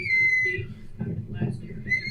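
Sharp high whistles pierce an outdoor crowd at a Speakers Corner gathering in Washington, D.C., loud shrill bursts at the start and end with voices talking between them.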